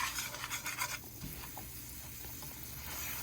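Butter and sugar stirred together in a pot for German chocolate frosting make a quick series of soft scraping, pattering strokes, then a quieter low simmering hiss carries on alone.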